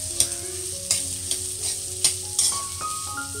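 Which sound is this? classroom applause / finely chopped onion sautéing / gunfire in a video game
finely chopped onion sautéing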